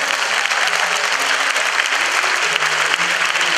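Strong audience applause after a school harmonica ensemble performance at a hundred-player harmonica showcase in Nantou, a close, continuous roar of clapping hands with faint background murmur.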